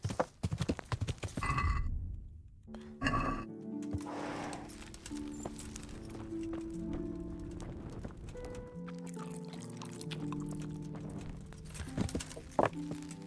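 Hooves of a horse clip-clop in a video game, with a whinny early on and steady hoofbeats continuing over sustained background music tones.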